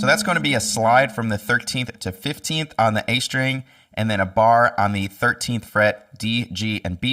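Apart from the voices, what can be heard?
None of the usual background noises is heard.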